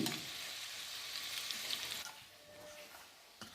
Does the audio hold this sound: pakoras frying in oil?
yes